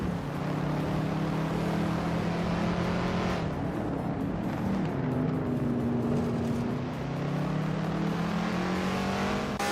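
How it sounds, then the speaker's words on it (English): A 1971 Dodge Charger Super Bee muscle car engine drones steadily in a racing video game, a loud, sustained roar whose pitch dips and climbs again as the car races on without a break. "Maya is driving a 1971 Dodge Charger Super Bee, a classic muscle car known for its power and aggressive look."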